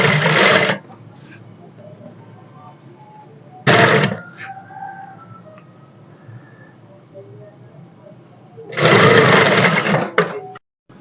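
A sewing machine stitches fabric for a lace-trimmed patti neck design, running in three short close bursts separated by quieter pauses with faint handling.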